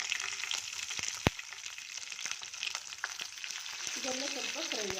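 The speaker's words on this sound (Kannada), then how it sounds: "ಇದೆಲ್ಲ ಸ್ವಲ್ಪ ಫ್ರೈ ಆಗಿ ಚೆನ್ನಾಗಿ." Cashew pieces and two green chillies fry in hot oil with a close, steady crackling sizzle and occasional sharp pops; a voice briefly comes in near the end.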